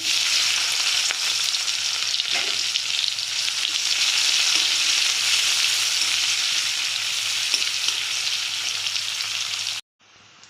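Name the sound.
chopped onions frying in oil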